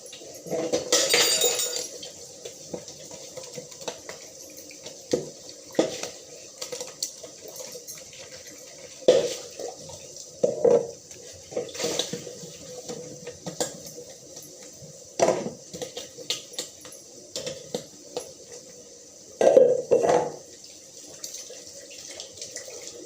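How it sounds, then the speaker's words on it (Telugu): Dishes are washed in a sink: running tap water with intermittent clinks and clatter of utensils, irregular bursts over a low background hum. "ఈ లోపల గిన్నెలు కడిగేసుకున్నాం"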